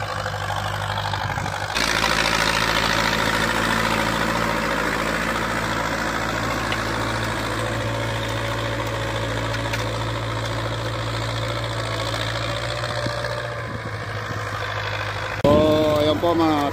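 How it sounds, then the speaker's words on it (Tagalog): A tractor engine in a farm field idles with a steady low rumble, with a brief louder burst and a rising whine near the end. "nayari na po yung traktora. Palabas na po siya nito mga katandem"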